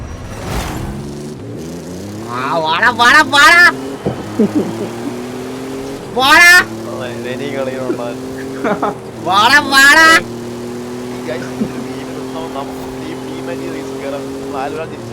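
A yellow Ford Bronco's engine revs and races in Forza Horizon 5, a steady drone with rising gear-shift sweeps running throughout, while someone talks loudly over it in bursts.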